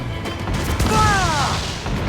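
Naval cannon fire from Assassin's Creed IV Black Flag: a dull, heavy boom rumbles beneath the din of sea battle, joined midway by whistling, descending tones like incoming shot.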